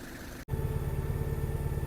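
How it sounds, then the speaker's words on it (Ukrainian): Yanmar F165 mini tractor, a 16.5 hp four-wheel-drive Japanese compact tractor, running at an outdoor sales lot with a steady low engine chug and rattle close by, briefly cut at the start. "Наступний тракторець їде до нас Янмар F165"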